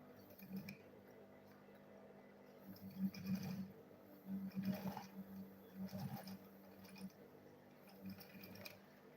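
Fabric being machine-sewn in short bursts, a low steady motor drone rising and falling with intermittent stitching runs, fairly faint and close, with no talking.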